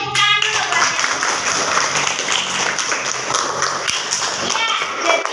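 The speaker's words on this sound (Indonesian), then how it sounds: "Tepuk tangan dulu buatnya" A classroom of pupils claps for a classmate, a burst of scattered hand claps and taps mixed with shuffling and children's voices, fairly close and continuous for several seconds.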